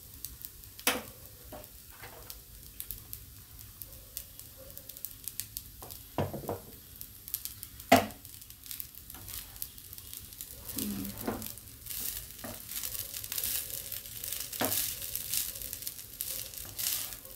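Egg fried rice with tomato ketchup is stirred in a hot pan, giving a low continuous sizzle broken by scattered sharp clinks and scrapes from the spoon against the pan.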